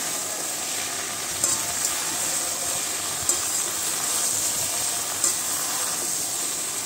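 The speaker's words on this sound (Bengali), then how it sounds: "এবার লাউয়ের সঙ্গে পুরো মশলা আর আলু খুব সুন্দর করে আমি এখানে মেশাবো।" Diced bottle gourd with whole spices and potatoes is stirred in a sizzling pan, a steady frying hiss with a few sharp spoon scrapes and knocks against the pan, close and alone.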